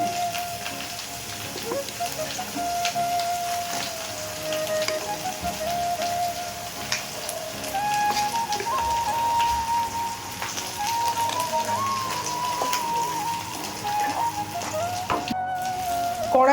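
Lentil paste mixed with ginger-chili paste and salt cooks down in a pan, giving a steady, close sizzle and soft bubbling throughout, with a faint thin whistle-like tone running on top.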